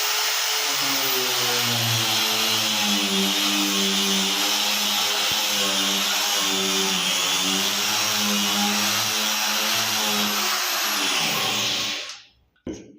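An angle grinder fitted with a sanding disc, sanding a school desk, whines steadily at high speed for several seconds, loud and close, then winds down and cuts off near the end.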